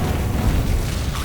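Confringo blasting curse in Hogwarts Legacy, a loud, close, rumbling explosive blast with heavy low boom that fills the moment without pause.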